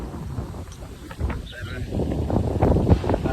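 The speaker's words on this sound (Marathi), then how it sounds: "वारा भरपूर सुटला आहे कारण तर वातावरण आणि समुद्रकिनारा जवळ असल्यामुळे भरपूर वारा नेहमीच असतो" Strong wind gusts near the seashore on a coastal farm, producing a steady rumbling roar and buffeting against the microphone. It grows slightly louder toward the end.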